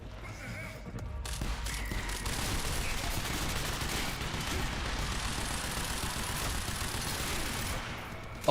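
Gunfire in the Quantum Break game: a dense, sustained barrage of rapid shots and impacts roaring steadily for several seconds, loud and continuous, ending in a sharp burst.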